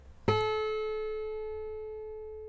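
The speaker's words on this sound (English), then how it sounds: "Here's the peak of A at 432." A single A note tuned to 432 Hz rings out after a sharp struck attack, with a rich stack of overtones above it, then sustains alone and fades slowly over about two seconds.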